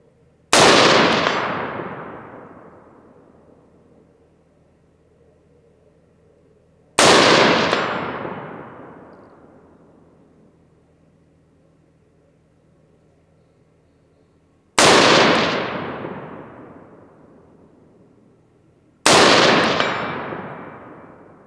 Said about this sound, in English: Hopefully you're able to hear the ping when the bullet contacts the plate